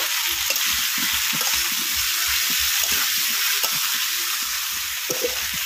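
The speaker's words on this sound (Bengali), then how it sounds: "এবার আলুটাকে কিছুক্ষণ কষিয়ে নেব।" Potato curry with ginger garlic paste sautés loudly in a pan. A strong, even sizzle holds throughout, with soft irregular thumps from stirring underneath.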